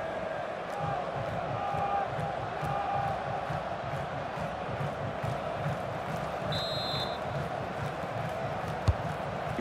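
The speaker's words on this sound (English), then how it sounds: "the crowd have got a bit fed up with this match, embarking on the Mexican wave" Dense stadium crowd roar rolling through a Mexican wave in the FIFA 20 football video game, a continuous swelling murmur with rhythmic pulsing and faint whistles, heard at a distance with no voices on top.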